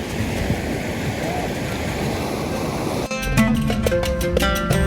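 Fast-flowing river water rushes loudly and steadily in a dense wash of noise, joined by wind buffeting, before a cut to music near the end.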